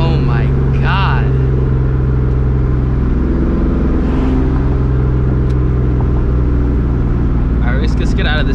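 A 2004 Mustang GT with a Borla ATAK exhaust, BBK short-tube headers and a catless JBA X-pipe rumbles loudly and deeply at close range, a constant low drone under excited talking.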